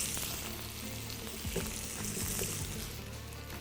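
Chunks of apple sizzle in melted butter in a pan, a close, steady frying hiss with faint stirring knocks and no talk.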